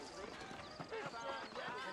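Horse hooves clip-clop faintly in the Western video game Red Dead Redemption, an irregular clopping that sits beneath continuous talking voices.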